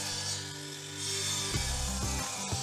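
A hand saw cuts through a wooden roof rafter with a few rough, rasping strokes in the latter half. Before the strokes there is a steady tonal hum, and no one speaks.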